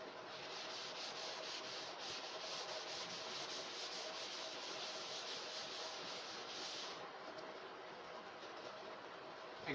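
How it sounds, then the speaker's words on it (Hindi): A hand rubs steadily against a surface, making a continuous close, dry scraping hiss that holds an even level for nearly ten seconds with no talking. "मैं रब कर रहा हूँ ये"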